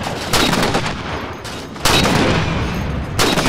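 Gunfire in the shooter game Halo 4, loud bursts of rapid shots in several overlapping volleys with brief lulls between them, close and dense, with no talking.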